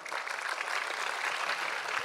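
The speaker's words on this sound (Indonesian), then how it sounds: "Tepuk tangan untuk beliau-beliau." An audience at a civic gathering in Surabaya applauds the mayor and vice mayor, a dense, even burst of clapping sustained at full strength throughout.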